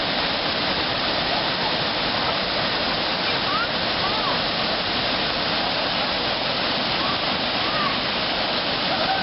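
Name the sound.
waterfall at Havasupai after flood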